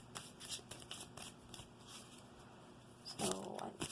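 Tarot cards are shuffled by hand, with quick riffling bursts and soft slaps close by, then a brighter rustling flurry near the end.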